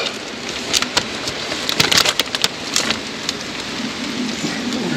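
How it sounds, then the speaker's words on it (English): Rain falls outdoors as a steady broadband hiss, with a short stretch of denser, louder patter midway. "Boy, that rain trying to come down on us"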